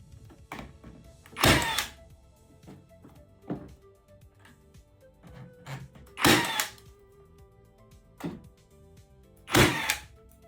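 A gas-powered nail gun drives nails into fasteners in a series of sharp, loud bangs spaced a few seconds apart, with quieter clicks and handling noise between shots.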